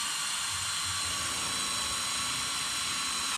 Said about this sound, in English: So we're just getting some holes drilled now